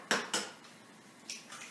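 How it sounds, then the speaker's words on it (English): An egg being cracked on the rim of a bowl while making hamantaschen dough: a couple of sharp, close taps on the rim, then two softer knocks a moment later, in a quiet room. "so I like to crack my eggs one at a time"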